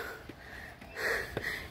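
Heavy breathing and gasps from a hiker climbing a steep trail in Hong Kong, with a couple of sharp breaths and a stronger exhale near the end, close and fairly quiet.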